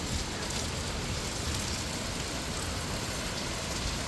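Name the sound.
rain during a severe thunderstorm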